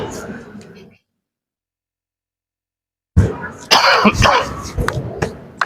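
Harsh coughing close to the microphone: a burst at the start, a silent gap, then a series of throaty coughs and throat clearing.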